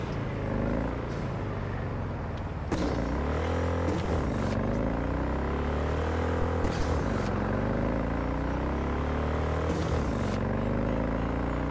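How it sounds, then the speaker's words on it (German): A vehicle engine in the video game Cyberpunk 2077 drones steadily with shifting revs, interrupted by several sharp exhaust pops and bangs scattered through, loud and close. "Ich finde ein bisschen anstrengend, dass hier immer der Auspuff so knallt."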